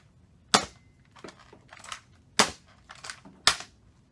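Nerf Zombiestrike Hammershot toy blaster fires foam darts at a range: four sharp, loud snapping shots spaced about a second apart, each followed by softer clicks and rattles of the hammer being primed.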